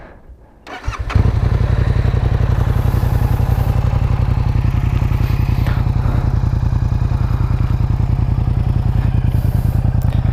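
A Yamaha FZ-07 (MT-07) motorcycle engine cranks and fires, then holds a loud, steady, throbbing idle close by, with the exhaust baffle partly in.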